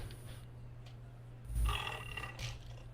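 A burp during a live GTA 5 open lobby stream: one low, rough eructation of about a quarter second rising over steady background hum, followed by a fainter second gurgle.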